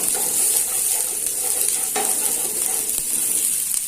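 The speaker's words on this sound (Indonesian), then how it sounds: "di sini sudah saya panaskan minyak. Ini untuk bumbunya, bawang merahnya saya tumis dulu" Shallots sautéing in hot oil in a pan for a spiced rice dish, a steady close sizzle with light stirring scrapes running throughout, no voices.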